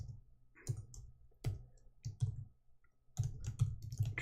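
Someone types on a computer keyboard with scattered, close key clicks, first a few single taps and then a quicker run of keystrokes at the end, in a quiet room.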